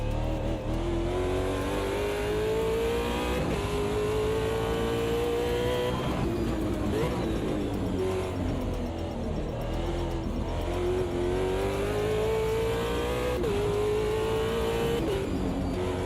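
Sim racing game car with a slightly bent prop shaft, its engine droning steadily and rising under acceleration with a shuddering, wavering tone, loud and continuous, with occasional tire scrub.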